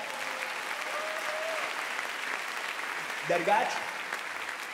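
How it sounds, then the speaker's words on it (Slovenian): Concert audience in Ljubljana's Gallus Hall applauds steadily and fairly loudly for a band's 30th anniversary show, continuous clapping with a brief spoken word over it. "dajmo zaploskat našim puncam."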